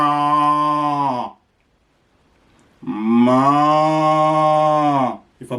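A cow moos twice, long loud drawn-out calls each lasting over a second with a clear harmonic tone, separated by a short silence, close and alone without talk.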